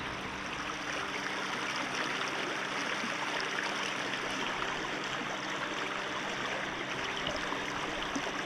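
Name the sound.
creek water flowing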